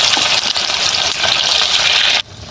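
Rasa bora pitha fry in hot oil in a wok, giving a loud, steady sizzle with bubbly crackling that drops off sharply near the end.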